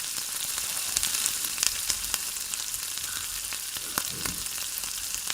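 Chicken spring rolls shallow-fry in a small amount of oil, giving a steady, moderately quiet sizzle sprinkled with soft crackles and pops, with no voices.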